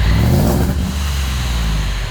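A supercharged work van engine revs hard through its mufflers, giving a loud, steady, deep exhaust roar that holds for about two seconds with no talking.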